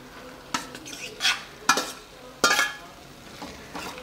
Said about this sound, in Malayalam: ഒന്ന് സിമ്മിലാക്കിയിട്ട് നമുക്ക് നമ്മുടെ ജാമ്പയ്ക്ക ഇതിലേക്ക് തട്ടിയിടാം.